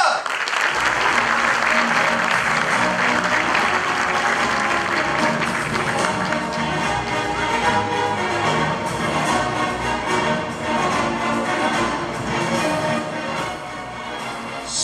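Sustained audience applause fills a sports awards ceremony hall in Sakarya, loud and steady for the whole stretch with a dense crowd texture and no break.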